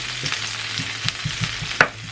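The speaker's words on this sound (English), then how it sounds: "our pan is now nice and hot, so we're going to throw in our onions. We're going to fry it for about 5 minutes." Onions frying in a hot pan while Spaghetti Roman Style is being prepared, a steady close sizzle with a few soft stirring scrapes and one sharp clack near the end.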